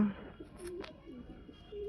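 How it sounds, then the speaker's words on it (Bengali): A male pigeon cooing softly at close range, a low brief coo against quiet background hiss with a faint chirp-like note. "এটা কি নর পায়রা তাই তো? নর পায়রা এটা।"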